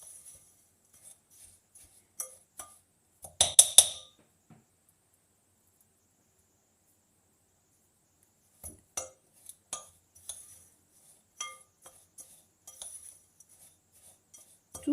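A spoon clinks against a bowl while mixing oil-soaked ingredients for a crunchy energy galette, giving scattered light taps and scrapes with a brief busier burst of clinking, otherwise quiet.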